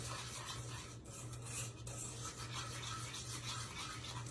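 A spoon scrapes and stirs chocolate gravy in a pot over medium to high heat, a continuous soft rubbing and clinking heard alone at low level.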